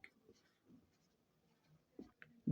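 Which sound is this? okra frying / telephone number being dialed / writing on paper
writing on paper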